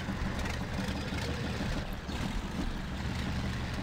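A heavily damaged jeep in the Spintires video game, on a volcano map, runs with a rough tractor-like engine note, a steady low rumble held without pause.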